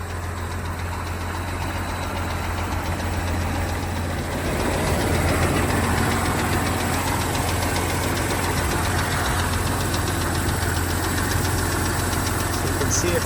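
Flathead inline-six engine of a 1947 International KB.2 pickup with a single-barrel carburetor idling steadily nearby, with a continuous low rumble and a faint rhythmic knock throughout.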